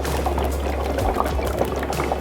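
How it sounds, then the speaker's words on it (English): Dry ice sits in bubble solution, making a steady, close, dense fizzing and bubbling that holds at an even level throughout. "we dip it into the bubble solution just like that"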